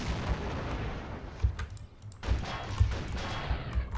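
Enemy gunfire in the video game Revolt comes as repeated punchy bursts and booms over a busy game soundscape.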